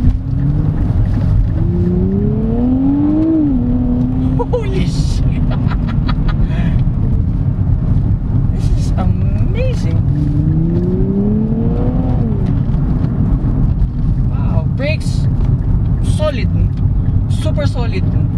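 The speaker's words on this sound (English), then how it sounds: "that's just the one lap I will do with this Nissan Z" A 2024 Nissan Z sports car engine drones steadily and rises in pitch through repeated accelerations on a fast lap, with a voice talking over the continuous roar.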